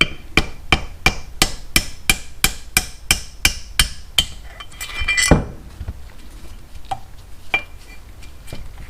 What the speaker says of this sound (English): put that in the back side here, and use this rubber mallet